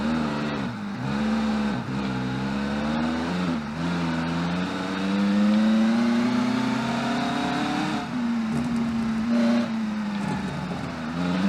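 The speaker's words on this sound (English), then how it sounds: "this car is an absolute beast to drive" Simulated engine of a 1990s supercar track car in the Automation car game, revving hard and loud with rising and falling pitch through gear changes, continuous with no talking.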